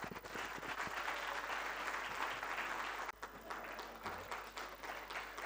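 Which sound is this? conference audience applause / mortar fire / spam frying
conference audience applause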